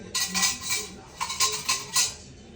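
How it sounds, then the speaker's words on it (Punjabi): A metal spoon clinks and scrapes against a bowl while mixing fresh homemade yogurt, several bright rhythmic taps in quick clusters, close and clear with no talking. "ਚਮਚਾ ਦੇਓ ਇਹਨੂੰ ਮਿਕਸ ਕਰੀਏ"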